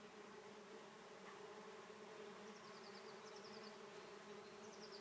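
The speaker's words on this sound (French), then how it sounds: "n'ayez pas peur de cette abeille qui est vraiment très douce et qui n'est pas agressif." A solitary bee, a gentle, non-aggressive species, hums in a steady low drone that stays constant throughout, with faint higher chirps in the background.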